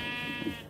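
A single short, nasal sheep bleat from Minecraft, close and clear, over a faint steady hum.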